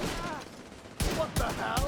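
Gunfire in a shooter video game: a stretch of muffled background noise followed by three sharp, loud bursts of shots in quick succession near the end.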